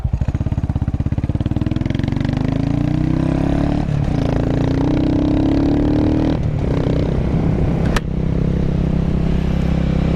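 A Buell Blast motorcycle's single-cylinder engine runs loud and steady while riding, its low throbbing note rising and falling gently with throttle changes, close and continuous with a brief click near the end.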